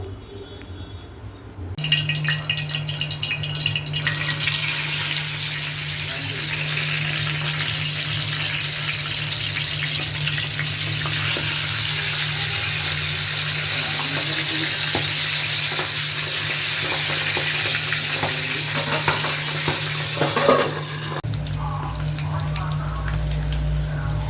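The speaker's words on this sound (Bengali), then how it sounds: "এই যে নুন হলুদ মাখানো আছে, আমি এবার ভেজে নেব এটাকে।" Fish pieces coated in salt and turmeric fry in hot oil, a loud, steady sizzle running close and continuous for most of the stretch, with a low hum beneath and a few clinks near the end.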